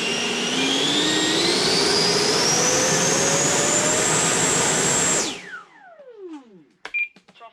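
Foam RC jet plane's electric ducted-fan engine running at throttle, a loud sustained whine rising steadily in pitch for about five seconds, then cutting off and spooling down with a falling tone, followed by faint small clicks.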